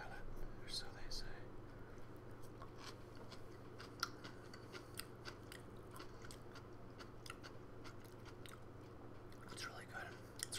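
Fresh pickled ginger chewed alongside sushi, close and quiet: soft repeated wet crunches and bites in an uneven rhythm over faint background hum, with occasional low murmured speech.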